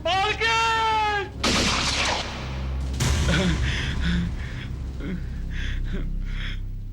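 A gunshot in a tense household confrontation: a sharp, loud crack bursts out after a woman's cry, followed by a ringing decay, then scuffling and raised voices.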